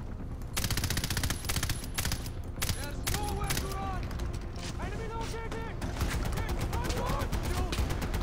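Rapid automatic gunfire in Far Cry 4, dense continuous bursts of shots with short pauses, loud and close, with game chatter and shouts mixed in.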